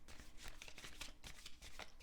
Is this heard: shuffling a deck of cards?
yes